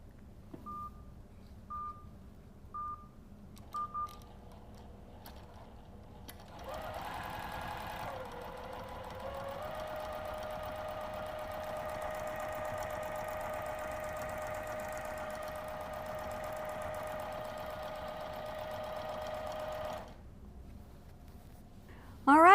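A SureStitch Elite quilting machine runs with a steady mechanical whir and hum for roughly thirteen seconds after a few short button beeps, holding an even speed before stopping abruptly.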